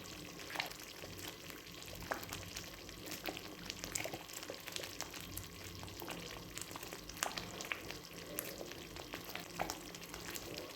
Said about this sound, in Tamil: மீனை சேர்த்துக்கலாம்.